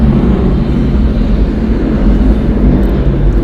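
Delta Airlines Boeing 757-300, twenty years old, departing from the north side of Atlanta Hartsfield-Jackson International Airport, a steady broad jet roar with a low rumble that holds constant and loud throughout.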